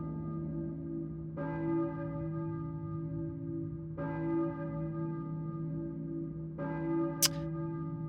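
A church bell tolls three times in the Silent Hill video game, each strike ringing out with a long, humming decay over a steady low drone, with a brief sharp tone near the end.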